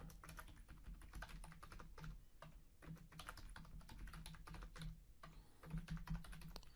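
A password is typed on a computer keyboard as a quick, uneven run of soft key clicks, heard close and quiet with no talking.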